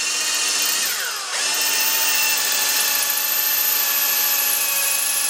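A steady, high-pitched power drill whines continuously, dipping briefly in pitch as it bites into deer or elk antler, then grinding on evenly.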